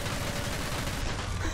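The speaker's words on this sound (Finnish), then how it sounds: "Ammu vaan!" Rapid gunfire in the My Friend Pedro video game, a dense, loud, continuous volley of shots filling the whole moment.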